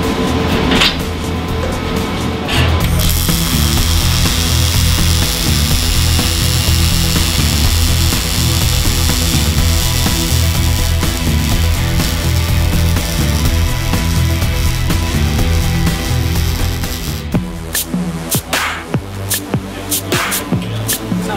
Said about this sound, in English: let's strike an arc